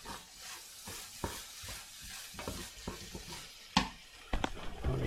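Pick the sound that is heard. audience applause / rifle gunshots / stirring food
stirring food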